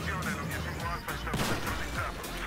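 Dense gunfire in a video game crackles and booms continuously, with bursts of shots aimed at the player layered into a busy, loud mix.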